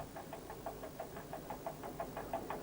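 A railcar on the Bohinj line between Trieste and Jesenice climbs a grade on a single working engine, giving a steady mid-pitched diesel drone with a regular knocking pulse about four or five beats a second.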